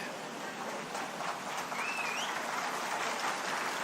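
Audience applause at a political rally speech in Maharashtra, a thin, steady patter of clapping heard from a distance, fairly faint and continuous throughout.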